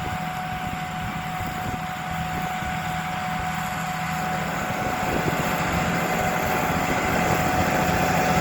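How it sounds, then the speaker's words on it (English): A tractor engine pulls a seed drill while seeding oats in sticky, wet field conditions, a steady loud drone with a constant hum and vibration throughout, no voices. "That tractor looks weird pulling that drill."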